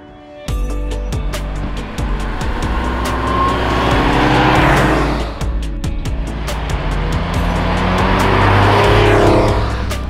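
A Cadillac Convertible Series 6200 at a classic car rally in Luxembourg drives by, its engine hum swelling twice to loud peaks and easing off, with sharp ticking clicks scattered throughout.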